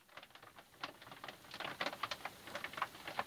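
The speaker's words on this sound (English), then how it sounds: "It's raining out, by the way, if you wonder what that noise is." Faint, irregular pattering of rain, light scattered taps growing a little busier over a few seconds, quiet and distant.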